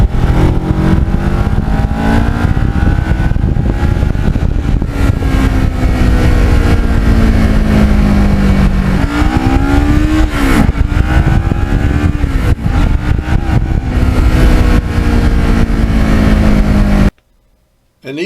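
Kawasaki Ninja motorcycle with lowered forks riding slippery back roads, a loud continuous engine drone with rising and falling revs throughout, briefly cutting out near the end.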